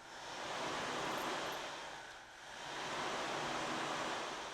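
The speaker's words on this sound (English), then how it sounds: "the surf. That's the ocean sound." A mechanical surf device in a recording studio makes a soft ocean wave sound, two long swelling washes of hiss that rise and fall, quiet and close, with no other sounds.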